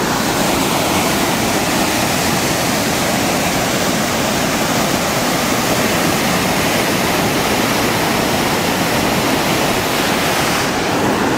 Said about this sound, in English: Beautiful, beautiful creek here.